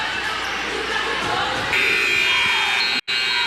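A shrill electronic buzzer sounds at a high school girls' basketball championship game to end the first quarter, a long steady tone rising over crowd noise in a gym before cutting off abruptly.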